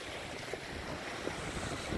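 Faint, distant sea surf rolls steadily along the coast at Cefalù, Sicily, on an overcast day, blended with soft wind noise and no voices.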